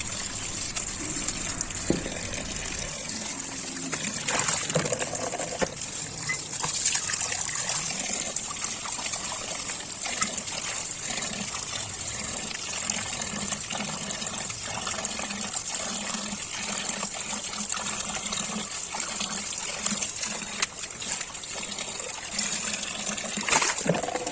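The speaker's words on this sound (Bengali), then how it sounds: "এইভাবেই আমি শাকগুলো আগে ধুয়ে নেব তারপর ডাটাগুলোকে ভালো করে ধুয়ে নেব" Water running steadily as leafy greens and their stems are washed by hand, a continuous close splashing trickle with occasional rustles and louder gushes, no speech.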